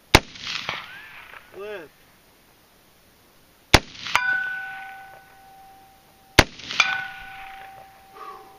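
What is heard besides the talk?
AR15 rifle shots hitting a distant target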